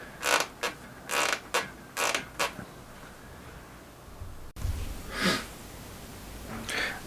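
A WTB bicycle saddle creaks loudly up close, a series of sharp squeaky creaks in an uneven rhythm, pausing briefly before a few more drawn-out creaks, with no talking.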